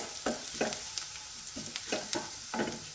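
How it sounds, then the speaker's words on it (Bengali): Chopped garlic frying in hot oil, a close crackling sizzle broken by regular scraping stirs roughly every half second. "তো তেল এখানে গরম হয়ে গেছে, তো সবার আগে আমি এখানে দিয়ে দেবো রসুন কুচিটা"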